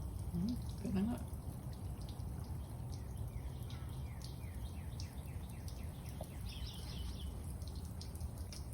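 Faint water running into a campervan's fresh water tank, a soft steady flow with occasional drips, while birds chirp and tweet in the background.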